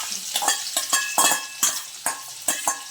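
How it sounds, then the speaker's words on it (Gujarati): Onions and green chilies sautéing in a pan with asafoetida for pav bhaji, a loud close sizzle punctuated by about nine rhythmic scrapes and clinks of a spoon against the pan. "અને થોડીક આપણે લાલ થાય ને ત્યાં લગી સાતળવા દેવાનું છે."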